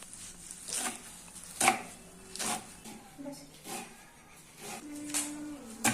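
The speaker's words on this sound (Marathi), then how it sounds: "त्यानंतर अशी आपल्याला चाकूच्या सायने भाजी कापून घ्यायची आहे बारीक" A knife finely chopping dinda, a wild leafy vegetable, on a board, with irregular soft cutting strokes at close range, some sharper, while someone talks over them.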